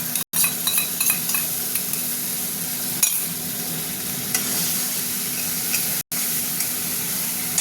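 A spice paste of ground kalo jeere and green chilli sizzles steadily in a pan with sour yogurt for a fish curry, stirred now and then with a few spoon scrapes, two brief dropouts breaking the continuous frying.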